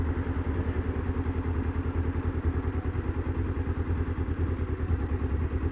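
A motorcycle idles at a traffic light with a steady, close, chugging rumble. The low pulses are rhythmic and continuous, with light mechanical clatter over them.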